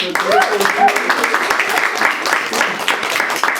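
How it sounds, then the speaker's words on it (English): Applause from an audience for the poets at a hybrid poetry reading, a dense patter of clapping that fills the whole stretch with a few voices mixed in. "let's give the poets a round of applause."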